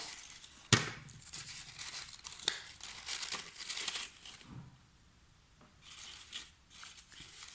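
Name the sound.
tape being torn to secure paper robot legs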